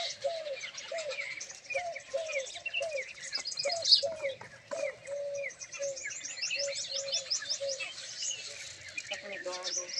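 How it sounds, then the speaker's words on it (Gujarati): Sparrows chirp busily and continuously while being fed in a morning routine, with dense overlapping tweets and calls close by, plus some cooing from doves mixed in. "ચકલાને જો ચકલાનો ખોરાક આવી ગયો છે."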